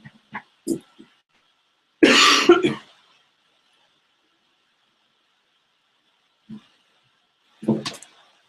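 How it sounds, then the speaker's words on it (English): Several coughs and throat clearings from one person, a few short quiet ones at the start, then a louder harsh burst of coughing, then silence broken by a couple more coughs near the end. "I needed to cough and didn't want to cough your ears off"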